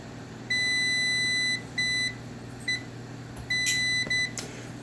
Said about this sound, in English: That noise you're hearing is from my meter.